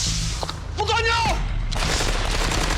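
Gunfire during a firefight erupts as bursts of sharp, booming shots mixed with shouting voices, loud and close, with a brief lull before a dense rattle of fire resumes.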